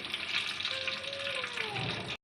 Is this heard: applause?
no